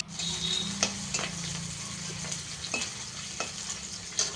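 Chopped onions fry in a pan for a Bengali kohlrabi (kowash) sabji, giving a steady close sizzle with several sharp scrapes and clinks as a spatula stirs them.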